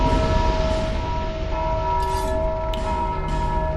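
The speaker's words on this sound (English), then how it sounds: "there's a guy under the stairs, and he's ringing the bell" A bell rung by a figure under the stairs in Dark Souls 2, heard as sustained metallic tolling tones that ring and overlap over a low rumbling background.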